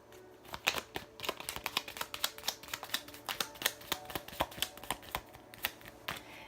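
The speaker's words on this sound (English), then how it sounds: "And then also while I'm shuffling" Rapid riffling clicks of tarot cards being shuffled, in quick bursts up close, with no talking.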